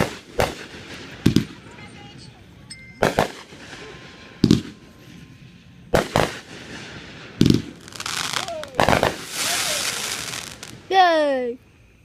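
Fireworks set off for a 6th of July celebration, a string of sharp booming bursts with crackling tails and one rising whistling shriek near the end, spaced irregularly and heard under excited voices.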